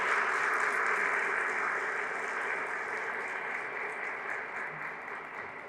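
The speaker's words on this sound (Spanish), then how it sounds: "Un fuerte aplauso a Jesús." A church congregation applauds at a Catholic sermon, sustained dense clapping from a large crowd throughout, slowly tapering off with no speech over it.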